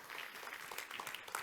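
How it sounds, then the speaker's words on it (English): Audience applause at a steel technology conference, welcoming a speaker to the stage; a faint, steady patter of clapping continues throughout. "A big round of applause to him,"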